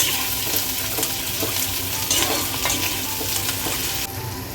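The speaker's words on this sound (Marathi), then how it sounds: "जिरं मोहरी थोडंसं तळतळलं ते आपण याच्यात टाकूया बारीक कांदा कापलेला थोडंसं चांगलं भाजून घेऊया" Finely chopped onion sizzles and fries steadily in a hot pan with cumin and mustard seeds while being stirred, a close, continuous crackle that eases off slightly near the end.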